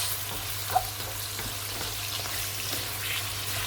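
Boneless chicken leg tikka frying on high heat in a pan: a steady, close sizzle with faint crackles and small pops, running continuously without talk.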